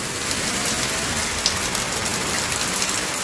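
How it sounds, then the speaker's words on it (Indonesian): Heavy rain pours down steadily over a small minimalist home garden, a dense, even hiss of drops striking surfaces with no pauses and no voices. "hujannya lebat betul"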